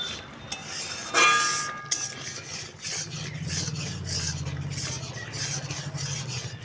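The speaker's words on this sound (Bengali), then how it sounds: "এখন এইভাবেই নেড়েই যাব, শুধু নেড়েই যাব, নাড়তে নাড়তে ঘন করে নেব।" A spoon stirs pineapple chutney in a pan as it thickens, giving soft scraping rubs with a few clinks near the start and a low steady bubbling underneath, close and fairly quiet with no talk.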